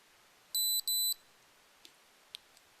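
A tactical weapon light switching on in a pitch-black basement gives two short, loud electronic beeps in quick succession, followed by a few faint clicks.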